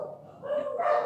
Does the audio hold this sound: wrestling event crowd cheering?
no